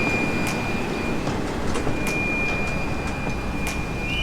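A commuter train pulls into a station in Manila, a loud steady rumble of wheels and carriages with a thin high whine running throughout and faint clatters close by.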